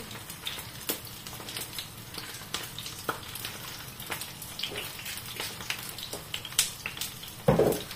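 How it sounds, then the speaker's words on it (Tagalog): A fish fillet seasoned with turmeric and paprika fries in a pan, giving a steady, close crackling sizzle with scattered pops and one louder burst of spitting oil near the end. "Piniprito na natin."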